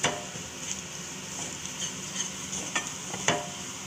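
Mushroom curry sautés in a pan, a soft continuous sizzle with occasional scraping stirs and light clinks of a spoon against the pan, close and moderately quiet with no voices.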